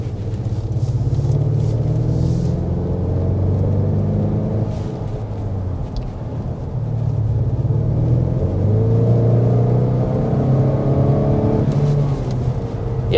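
A 2024 Acura RDX SUV engine rumbles and revs up steadily, its low drone rising in pitch as it accelerates, heard close from inside with no talking.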